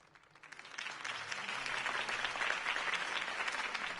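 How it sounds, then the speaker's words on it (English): In the video game Batman: The Telltale Series, a crowd bursts into sustained applause after a campaign speech, many hands clapping together at moderate distance, swelling quickly and holding steady. "could have heard that applause"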